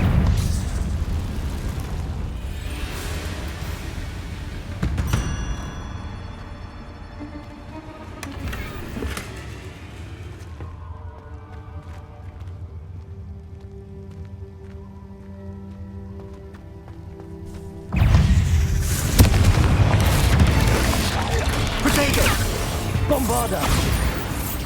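Confringo fire spell explosions in Hogwarts Legacy, a series of deep booming blasts separated by quieter stretches of tonal game music, ending in a loud rumbling burst of fire and debris, with a voice speaking at times.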